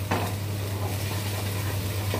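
Spices sizzle steadily in hot oil for a tadka, a dense continuous crackle at close range with a low background hum and no talking.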